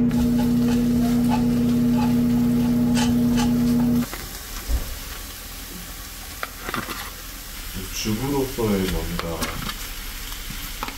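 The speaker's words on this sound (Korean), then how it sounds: "그냥 다 볶는데?" Eggs and vegetables are stir-fried in a pan, giving a steady loud sizzle with scraping stirs, under a constant tone at first and then alongside people talking.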